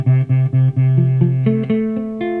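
A guitar barre chord strummed several times in quick succession, its notes sounding buzzy and muted from fingers pressed too lightly, then a few sustained tones rising in pitch.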